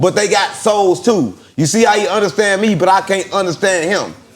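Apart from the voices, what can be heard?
None of the usual background noises is heard.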